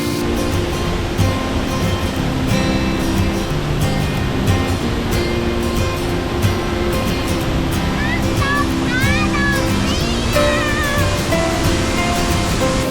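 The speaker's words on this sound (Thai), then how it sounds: "น้ำตกผาดอกเปี้ยวนะ อลังการและสวยงามมาก น้ำแรงกระเด็นใส่เรา" Pha Dok Siew waterfall at Doi Inthanon pours down in a loud, continuous broadband roar heard close from a bamboo bridge, while people talk over it and a voice rises briefly.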